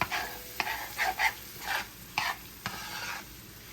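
Sliced onions and green peppers cooking in a pan for smothered chicken, quiet soft sizzling broken by several scraping stirs of a utensil against the pan, close by with no talking.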